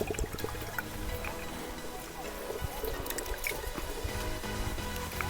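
Water gushes out in a steady, splashing flow at an outdoor farm in Gujarat, moderately close and fairly quiet, with no talk over it.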